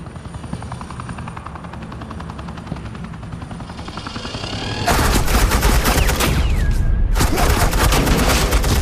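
Suppressing gunfire erupts in Batman: The Enemy Within, a loud sustained burst of rapid automatic shots that starts abruptly midway over a helicopter-like rotor drone, briefly cuts out, then resumes.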